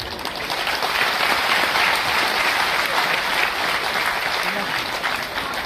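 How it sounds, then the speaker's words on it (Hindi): An audience at a spiritual discourse gathering claps in sustained, dense applause that holds steady and loud for several seconds, spread across the hall. "उनको धन्यवाद"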